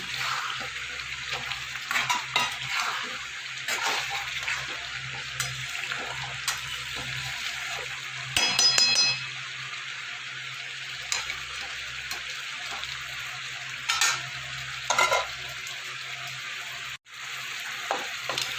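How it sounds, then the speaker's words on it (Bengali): Fried potatoes and spices being stirred in a pan, a constant oily sizzle with repeated scraping stirs and a few louder bursts, close and without talk. "এবার দেবো ভেজে রাখা আলু আলুর সাথে ভালো করে এটাকে মশলাটা আমি কষিয়ে নেবো"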